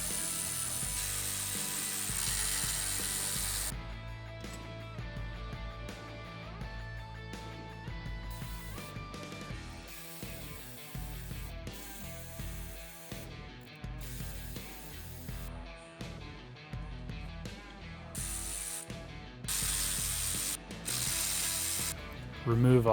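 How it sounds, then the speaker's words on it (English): Hand ratchet unbolting the rocker arm assemblies during a Stage 2/Stage 3 camshaft install, with bursts of rapid clicking separated by short pauses, close and fairly quiet, mixed with background music. "Next, we can unbolt the rocker arm assemblies."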